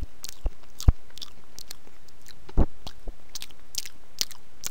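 Pink chewing gum is chewed up close, with scattered moist clicks, smacks and a few louder crunchy bites spread irregularly over steady quiet background noise.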